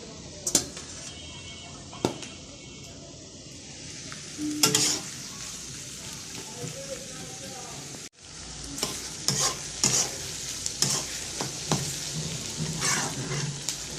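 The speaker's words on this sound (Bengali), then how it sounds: "শুটকিটা আগে একবার ভাজা দিচ্ছি, আবার একটু তেলের সাথে ভাজা দিই" Oil sizzles steadily as onions and dried fish fry in a pan, with stirring scrapes and clinks throughout and a short pause midway.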